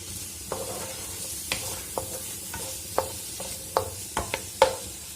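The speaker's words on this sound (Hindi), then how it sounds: "बस 1-2 मिनट के लिए फ्राई करना है" Sliced ginger, tomato and bell pepper frying together in a pan give a steady close sizzle, broken by sharp clacks of a stirring utensil against the pan, with no voices.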